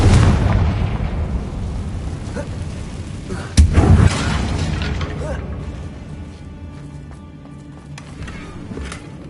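Confringo fire spells explode in the game Hogwarts Legacy during a goblin mine assault, with a loud sharp blast midway over rumbling, fading booms.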